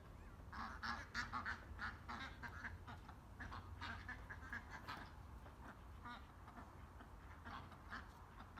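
Many ducks and ducklings quacking continuously at a moderate distance, a busy overlapping chorus over low background rumble.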